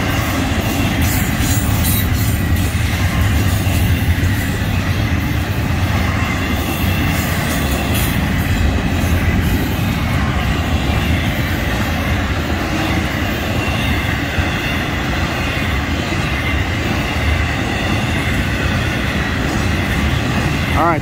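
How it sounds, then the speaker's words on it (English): A long Florida East Coast Railway freight train rumbles steadily past, a continuous heavy roar of wheels on rails with faint clattering, sustained and close throughout. "It's actually a pretty long train."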